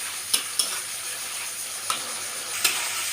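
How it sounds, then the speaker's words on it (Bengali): Spice paste with a splash of water stir-fried in a pan for a fish curry, a steady hiss punctuated by four crisp spatula clacks against the pan. "এবার আমি মশলাটা সুন্দর করে কষিয়ে নেব।"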